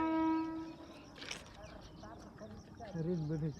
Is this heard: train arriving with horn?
yes